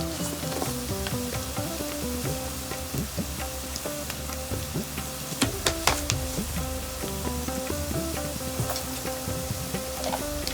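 Sliced bitter gourd frying in oil with chili powder and salt, a steady close sizzle with stirring clatters and scrapes of a spoon in the pan throughout.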